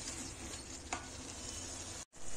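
Ivy gourd pieces fry in a pan while being stirred, a continuous close sizzle with scraping stir strokes, one sharper clatter near the middle and a brief drop to silence near the end.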